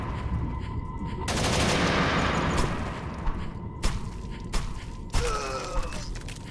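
Video game gunfire crackles in loud bursts, first a sustained rattling volley and then several separate sharp shots and impacts, with a brief tonal effect near the end.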